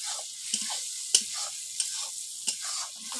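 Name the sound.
sautéing and stirring spices in a pan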